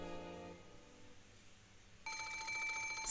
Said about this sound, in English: Suddenly, the phone rang.